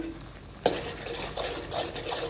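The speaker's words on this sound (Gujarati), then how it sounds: "હવે એને બરાબર હલાવતા રહીએ જેથી આપણી ખાંડ જે માથેથી ઉમેરેલી છે એ સારી રીતે આમાં ઓગળી જાય" A spoon scrapes and stirs steadily against a pan after a sharp clink as sugar dissolves into a barfi mixture, a continuous close swishing sound with no voices.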